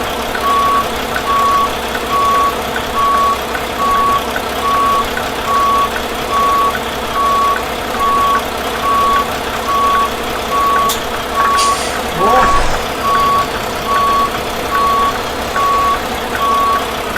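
A B-double truck reversing in American Truck Simulator, its reversing alarm beeping steadily in a regular rhythm over a constant engine idle, with a brief hiss and thump partway through.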